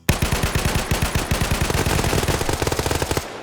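Rapid automatic gunfire in a PvP video game match, a steady stream of loud, close bursts lasting about three seconds and then cutting off abruptly.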